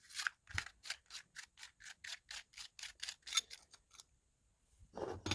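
Rapid ticking clicks from a screwdriver ratchet working loose the parts of an ELF headlight, about a dozen evenly spaced snaps close by, then a pause and a brief rustle at the end.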